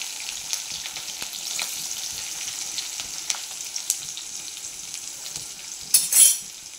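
Potatoes frying in hot ghee with cumin seeds and green chillies, a steady close sizzle with occasional utensil clinks and a louder burst of crackling stirring near the end.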